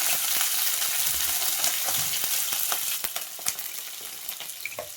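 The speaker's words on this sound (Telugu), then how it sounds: "ఉల్లిగడ్డ వేసుకోండి నూనె గరం కాగానే మంచి" Onions sizzling and crackling steadily in hot oil for a tomato fenugreek curry, a dense close frying hiss with occasional pops and stirring, no voices.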